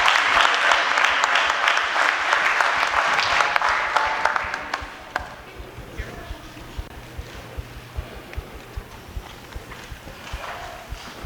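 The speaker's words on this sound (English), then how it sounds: "Round of applause, man." Congregation applause after a youth choir performance at a church gathering: a burst of clapping for the first few seconds that fades out, leaving sparse scattered claps over a quiet room.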